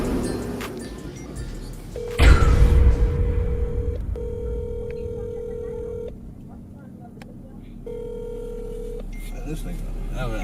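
A telephone call goes unanswered, with repeated ringback tones in steady pulses heard over a low background, after a sharp burst of louder noise early on.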